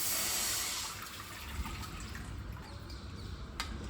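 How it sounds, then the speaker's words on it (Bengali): Water poured into a cooking pan while making egg chicken chowmein at home, a steady close rushing splash that eases slightly after the first second, alone without talk. "প্রথমে আমি এখানে জল দিচ্ছি"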